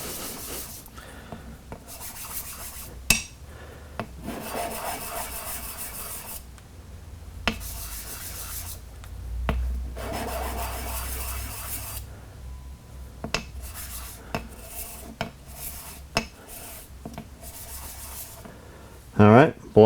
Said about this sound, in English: we'll lap all of our surfaces now so we get them nice and smooth